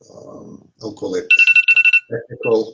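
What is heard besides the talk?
phone alarm going off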